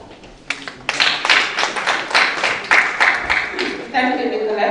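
Conference audience clapping, a dense patter of hand claps swelling after a brief pause and holding steady, fairly close and loud, with a voice surfacing near the end.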